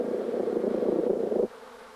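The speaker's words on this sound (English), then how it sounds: "the number of pulses of sound emitted in each buzz are a measure of the distance to the food source" A honeybee buzzes during a waggle dance, a close, steady droning hum lasting about a second and a half before cutting off abruptly, with no talking.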